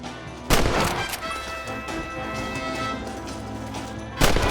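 Gunfire in a Red Dead Redemption shootout, with two loud, sharp cracks standing out over a dense rumbling background of game sound.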